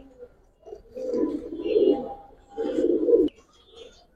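Giribaz pigeons coo in low, throaty bursts, two longer swelling phrases with softer murmurs around them, close by in a quiet setting.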